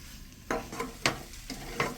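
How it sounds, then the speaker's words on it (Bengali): Fried prawns and pointed gourd are stirred in a sizzling pan, with about four quick scraping strokes of the spatula over a soft, continuous frying hiss. "এরপর ভেজে রাখা চিংড়ি মাছগুলো অ্যাড করবো তারপরে সমস্তগুলোকে একসঙ্গে ভালো করে নাড়িয়ে চাড়িয়ে মেখে নেব"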